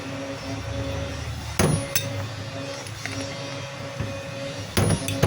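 Hammer strikes tightening the chuck onto the spindle of a DeWalt DWD014 3/8 drill, a few sharp metallic taps spaced seconds apart over a steady background hum.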